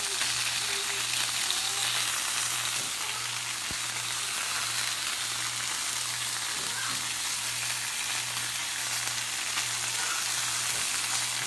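Polenta slices frying in olive oil over medium heat on the stove, a constant close crackle and sizzle holding steady throughout with a low hum underneath and no talking.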